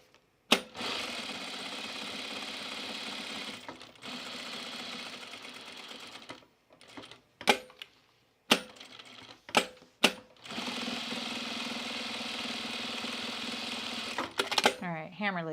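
A sewing machine stitches hems on overalls, running in long continuous bursts broken by short pauses and a few sharp clicks as the fabric is repositioned, loud and close.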